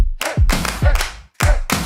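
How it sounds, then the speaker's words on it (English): Audience clapping along to a call at a K-pop themed comedy performance: several sharp, loud hand claps in an uneven rhythm with a brief gap, close and without talk. "If you're sexy in the west, clap your hands."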